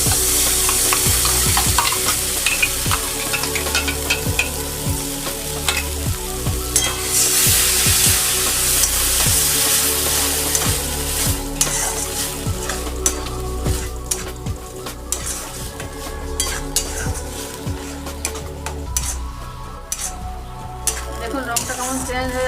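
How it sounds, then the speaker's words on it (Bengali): Spinach paste for palak paneer sautés and is stirred in a pan. A continuous loud sizzle runs under frequent scraping and stirring strokes, with a few light clinks of utensil against metal. "এবার একটু কষিয়ে নেবো। পেস্ট করা পালংটা মেশাবো।"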